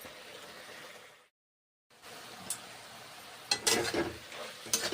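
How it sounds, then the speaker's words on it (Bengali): Cabbage curry with peas sizzling and being stirred in a pan, soft frying hiss broken by a brief silence, then scraping stirs and sharp clatters of the spoon against the pan, close and quiet. "নেড়ে চেড়ে রান্না করে নিচ্ছি।"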